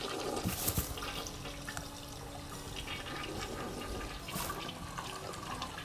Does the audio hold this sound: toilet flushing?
yes